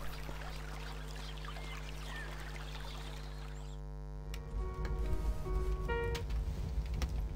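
Water pours and trickles in the adventure game Black Mirror, a splashy stream for about four seconds before giving way to a low steady hum and scattered tonal game sounds.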